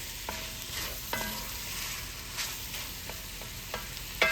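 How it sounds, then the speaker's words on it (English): Ground meat and sausage frying and being stirred in a pot, a steady low sizzle with a few scraping stirs and light clinks of a utensil against the pot, fairly quiet throughout. "we're gonna take this out of here and then we're gonna add our ground meat"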